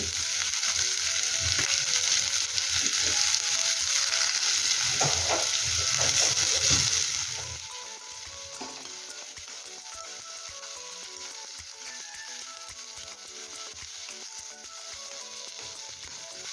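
Finely chopped onions frying toward golden brown for a prawn dum biryani, a loud close sizzle that softens partway through into a lower, quieter crackle, with no voices.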